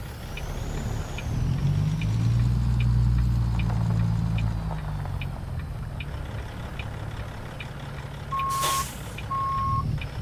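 Reversing beeper on a heavy truck in American Truck Simulator, a steady run of evenly spaced high beeps over a deep rumbling diesel idle, with a sharp hiss of air brakes near the end.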